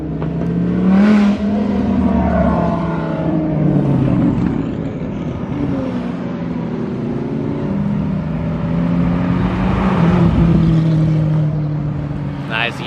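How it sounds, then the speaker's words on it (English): A group of supercars, Lamborghinis among them, rolls up at a car show with deep engine drone and changing revs, loud and close, with voices talking over the traffic. "Crazy grouping of cars pulling up."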